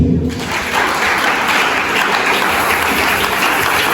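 A church congregation applauds during a worship service, a dense, steady wash of clapping that fills the room evenly from start to finish.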